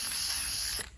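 A steady loud hiss of spray paint coating the inside of a large fake ice cream cone, continuous for under a second before cutting off.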